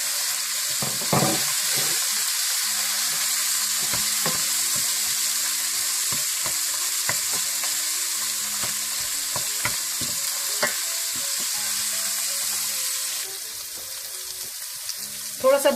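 Dry red chillies sizzle and fry in a pan for chicken chilli masala, a steady close crackle with occasional stirring scrapes throughout and a brief clatter at the end.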